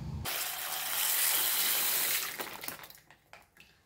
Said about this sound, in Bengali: 2-3 বার ধুয়ে জলটা ফেলে তারপর ভিজতে দেবো।